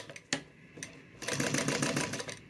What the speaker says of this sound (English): we're going to start stitching with a 3/8 inch seam allowance, making sure that we back stitch